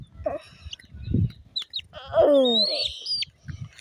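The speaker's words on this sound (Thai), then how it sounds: "นี่คือลูกไก่ที่มันไม่ยอมให้เราจับนะคะ" Chicks in a chicken coop give a burst of several sharp, high, sliding peeps close by, mixed with lower clucking and soft rustling.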